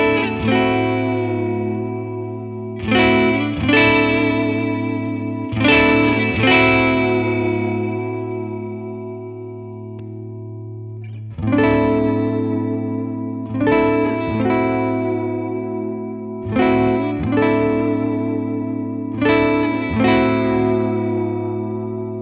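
A Fender Jaguar's neck pickup on the rhythm circuit strums clean chords through a chorus-tinged effect. Spaced strums ring and decay over a steady low sustained tone, with a pause midway before the pattern resumes.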